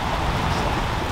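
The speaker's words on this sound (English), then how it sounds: "Every time we go snook fishing, it rains." Steady, dense rain falls during a Florida squall on a fishing boat with its bimini top raised, a loud continuous hiss of drops on the water and canvas, with no voices.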